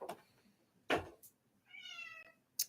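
A cat meows several times indoors, with two or three short calls and one longer drawn-out meow, fairly close and clear with no talk over it.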